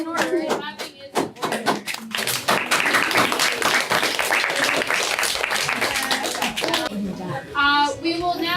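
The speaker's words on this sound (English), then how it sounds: "Clapping in order, right?" Delegates clap after a vote passes at a Model UN conference. A dense, steady patter of hands fills the room for several seconds, with voices talking over it at the start and end.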